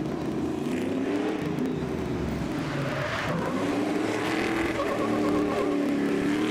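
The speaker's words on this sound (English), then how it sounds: "Robbie Gordon Stadium Super Trucks thrilling the crowd once again here in Long Beach." Stadium Super Trucks race at Long Beach, engines roaring and revving continuously with shifting pitch as trucks accelerate past, loud and without talk.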